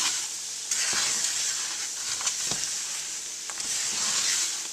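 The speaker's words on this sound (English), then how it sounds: "it's getting pretty hard to stir" Sugar-coated cinnamon almonds crystallizing in a pan are stirred with a thick, gritty scraping over a constant hiss, the strokes coming in a few louder bursts close by.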